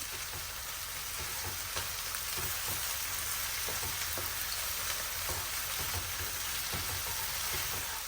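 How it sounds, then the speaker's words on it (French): Chopped bell peppers and onions sautéing in a frying pan for chili con carne, a steady close sizzle with light stirring ticks throughout, no talking. "Et je fais revenir mes légumes, donc les poivrons et les oignons."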